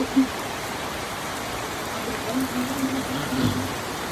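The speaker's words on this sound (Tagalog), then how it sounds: "okay lang yung ulan na ganyan" Steady rain from a typhoon hissing on a farm roof, a soft continuous wash of drops with no voices, fairly even throughout.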